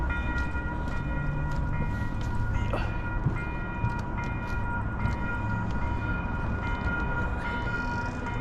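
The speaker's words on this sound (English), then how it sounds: "now the train is coming from somewhere, not sure which way." A train drawing near somewhere around Calgary in February, a steady rumbling roll with rail hum and a faint horn tone, continuous and moderately loud against outdoor ambience with no talking.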